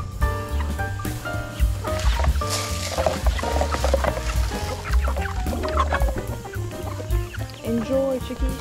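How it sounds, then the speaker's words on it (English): Chickens on a farm cluck and call during feeding chores, their fowl sounds mixed into a busy, dense background with a person talking over them throughout. "Hello, chickies."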